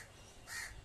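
A crow near a rooftop gives a single short caw, faint and brief against a quiet outdoor background.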